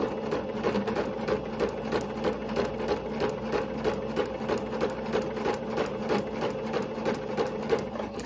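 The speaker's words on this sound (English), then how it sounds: "I didn't have to like pull anything off the sewing machine" A sewing machine runs steadily, its needle stitching in a fast, even mechanical rhythm close by, with no one speaking.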